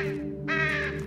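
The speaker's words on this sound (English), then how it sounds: "Fuck off, crow." A crow caws in the horror game Amnesia, a single loud harsh call that swells halfway through over a steady low drone.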